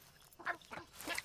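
Chicharron the rooster in the video game Far Cry 6 giving a few short agitated squawks in quick succession, fairly faint.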